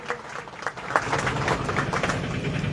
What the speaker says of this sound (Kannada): ಜೋರಾಗಿ ಚಪ್ಪಾಳೆ ಹೊಡಿ ಅವ್ರಿಗೆ.